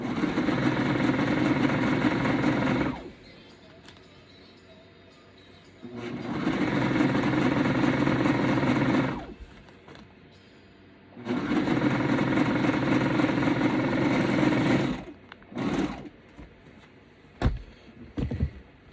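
A serger overlock sewing machine stitches men's boxers in three long bursts of steady high-speed whirring, each lasting about three seconds, separated by quiet pauses, and ends with a few short clicks and handling noises.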